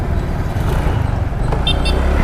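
Dense city road traffic rumbles around a bike taxi, with steady engine drone from surrounding vehicles and a few faint short horn toots near the end.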